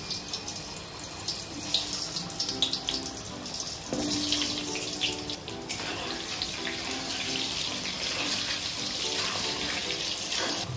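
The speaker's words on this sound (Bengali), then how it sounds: "তেলটা গরম হয়ে গেছে, আমি প্রথমে আলুটাকে ভেজে নেব।" Potatoes frying in hot mustard oil in a heated kadai make a steady, dense sizzle that runs loudly and without a break the whole way through, with no voices.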